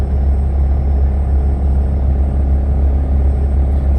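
A semi truck engine runs steadily during exhaust regeneration, a loud continuous low rumble with a constant drone and no breaks.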